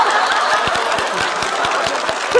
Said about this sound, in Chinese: 直接鼓掌。